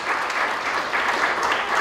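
A church congregation claps together in steady, dense applause that holds at an even level from start to finish, with no voices rising above it.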